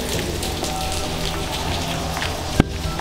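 Steady rain falls outdoors at a hilltop Buddhist temple in Malaysia, a dense, even patter on hard surfaces that continues through the clip, with one sharp knock near the end and no voices.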